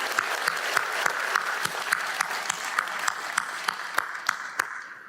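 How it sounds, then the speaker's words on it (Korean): A church congregation gives a steady, full round of applause with sharp individual claps standing out, sustained for several seconds before fading at the end. "여러분 박수 한번 쳐주시지 않습니까?"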